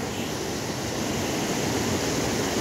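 Rushing water from a large mountain stream in Nepal, a steady broadband roar with no breaks, heard on its own without any voices.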